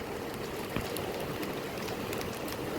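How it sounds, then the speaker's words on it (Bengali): Heavy rain pours steadily outdoors, a dense, even hiss of drops spattering on wet ground with water running through, continuous and fairly close with no voices. "বৃষ্টিটা ভালোই জোরে আসছে"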